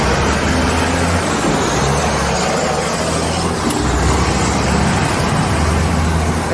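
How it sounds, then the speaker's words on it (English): A loud construction truck passes along a street in Puerto Vallarta, its heavy engine and road noise forming a steady, close roar that fills the whole stretch without a break. "that was a very loud construction truck that just walked by"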